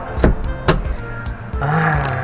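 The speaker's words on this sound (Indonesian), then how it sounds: "Masih dalam showroom hidupin mobil." A Suzuki XL7 Alpha Hybrid SUV inside a showroom: a couple of sharp clicks and thumps give way to a steady low engine hum that settles into a continuous idle, close and moderately loud.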